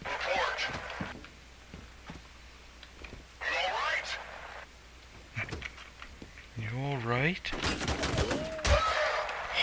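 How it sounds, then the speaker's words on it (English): Gunfire in the video game F.E.A.R. Extraction Point: several short bursts of shooting and impacts spread through the clip, mixed with radio-like voices and talk. "Don't just walk in on somebody and start shooting."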